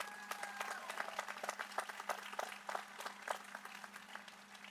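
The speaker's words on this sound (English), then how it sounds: "give yourselves a round of applause for making it through that" Audience applause at a UC San Diego engineering ring ceremony, faint and even, with distinct claps from a modest crowd heard at a distance.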